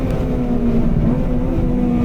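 A Honda Civic EP3 Type R engine on the Nürburgring, a loud steady droning hum at constant pitch from inside the car while the driver shifts into second gear, continuous and close with no talking.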